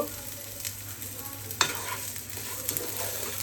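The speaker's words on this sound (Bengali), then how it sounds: "চাউলটা আমি হালকা করে ভেজে দিব" A spoon scrapes and stirs rice lightly frying in a pan for prawn pulao, with a soft, steady sizzle underneath, plus one sharp clack near the middle; no voices.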